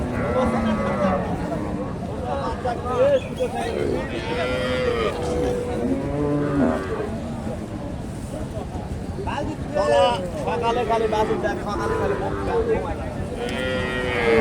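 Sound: cow mooing at a cattle market

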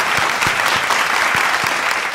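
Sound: audience applause for spelling bee finalists

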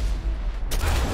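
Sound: gunshot

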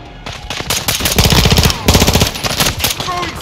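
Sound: gunfire in video game Call of Duty Modern Warfare 2

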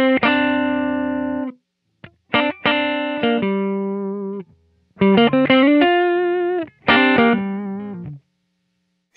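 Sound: Deco tape saturation pedal effect

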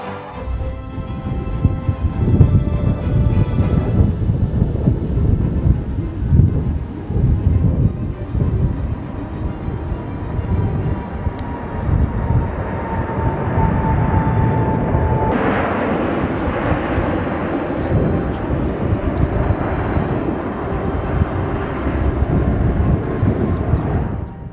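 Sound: Thunderbirds jet flyover at Air Force Academy graduation

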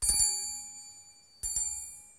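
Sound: notification bell sound effect

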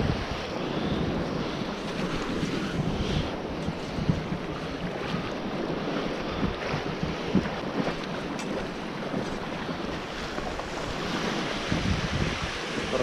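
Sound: sea waves washing into shore pocket, Barents Sea

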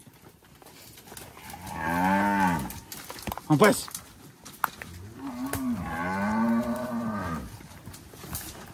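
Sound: heifers mooing while being herded to pasture

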